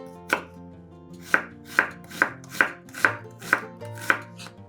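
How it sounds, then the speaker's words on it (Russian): Knife chopping an onion on a cutting board, about nine steady, evenly spaced chops, close and clear with no talking. "Одну луковицу нарезаем кубиками."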